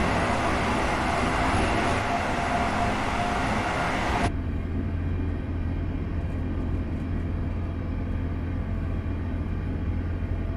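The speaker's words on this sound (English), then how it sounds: "let's see what the train sounds like outside now" Train in the railway game Train Simulator Classic heard from outside, a loud broad rushing roar that cuts off abruptly partway, leaving a quieter low rumble and hum, steady with no talking.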